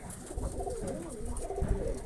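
Soft, low coos of white pigeons roll on continuously, fairly faint, with muffled handling thumps in the background.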